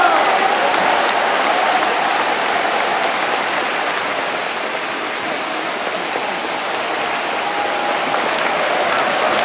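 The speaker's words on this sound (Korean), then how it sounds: "큰 사랑과 축복을 담아서 박수로 모시겠습니다" Sustained, dense applause from a standing congregation at a church healing revival meeting in Busan, loud and steady throughout with no pauses, its texture close to heavy rain.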